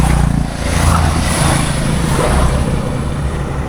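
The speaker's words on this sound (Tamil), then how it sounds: "பைக்கர் ஸ்குவாட் ஒன்று போயிட்டு இருக்குங்க." A group of motorbikes on a mountain road between Kodaikanal and Munnar passes by, a loud sustained engine drone swelling and holding steady without pause.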